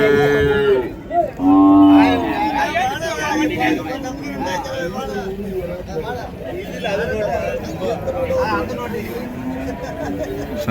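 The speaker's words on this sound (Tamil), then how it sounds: "நல்ல ஒரு செவல நேர மாடு" A native cow lets out two loud, drawn-out moos near the start, followed by a busy crowd chattering around livestock at the Orappam cattle market.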